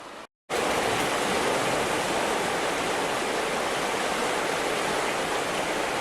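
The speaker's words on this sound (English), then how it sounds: "Lots of water coming down the Maruia River today with all that rain." The swollen Maruia River rushes after heavy rain, a loud, unbroken roar of fast water that fills the whole stretch after a brief cut near the start.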